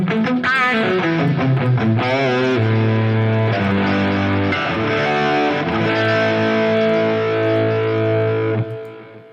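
Electric guitar played through a Mooer GE300 running a Marshall amp model with distortion: sustained distorted chords and single notes ring out loud and steady, fading at the end.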